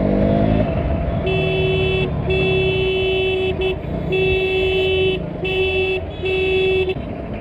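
A motorcycle engine roars steadily while riding, loud and close, with a repeated horn tooting in short bursts over the rumble.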